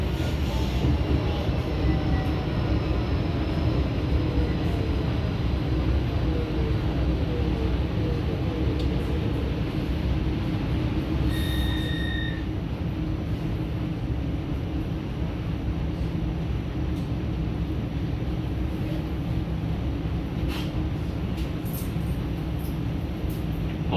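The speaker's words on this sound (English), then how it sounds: "This tram is travelling to Hallensvale, stopping at Hallensvale only." A tram travelling to Helensvale rumbles steadily from inside the carriage, a continuous low rolling drone with faint squeals and a brief two-tone chime partway through, with no talking.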